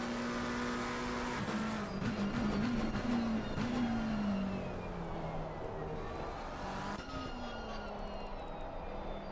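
An old Audi race car in a racing video game, its engine droning loudly and steadily, pitch climbing and falling through gear changes, with other cars buzzing past close by on the Hungaroring circuit.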